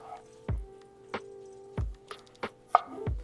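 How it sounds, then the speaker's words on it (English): A knife slices radishes thinly on a cutting board for street tacos on a Steelmade flat top, giving five or six crisp, separate chops about half a second apart, close and clear, with no talking. "next is radishes, and we're gonna get that sliced up pretty thin as well"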